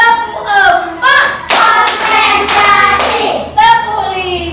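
A group of young schoolchildren in a classroom claps along in a counting game, with several crisp hand claps and thumps rising through a steady chorus of chanting children's voices.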